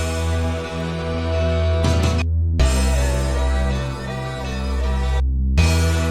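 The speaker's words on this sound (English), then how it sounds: "I literally just have 2 notes playing over and over again here" A wonk bass line repeats two notes over and over, loud and steady beneath layered harmonic tones, with a couple of brief dropouts in the upper layers.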